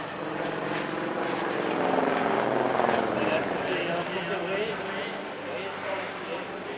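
A Eurocopter EC120 helicopter drones steadily nearby at an airshow, its rotor and engine noise filling the scene while a person talks over it.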